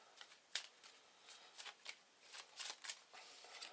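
Faint, quick riffling bursts from shuffling a deck of Arkham Horror game cards, repeating in irregular clusters nearby without any talk.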